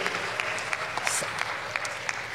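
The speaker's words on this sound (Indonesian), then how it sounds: "Oke, tepuk tangan buat Profesor Stella Christy." Audience applause for Professor Stella Christie at an interview event: a soft, fairly distant patter of many hands clapping steadily with a few sharper claps standing out.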